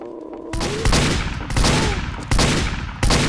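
Gunshots in the video game Spy Warz, several loud, sharp reports spaced about a second apart, each with a brief ringing tail, over faint background tones.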